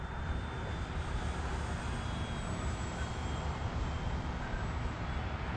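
Radio-controlled model airplane, a light Decathlon-type aircraft, flying a downwind turn outdoors, giving a steady continuous engine drone with a faint high whine, heard from a distance throughout and without any talk.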